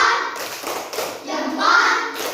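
Third-grade children in a classroom do a rhythmic clapping chant, a few soft group claps and taps mixed with their chanting voices, close and fairly loud.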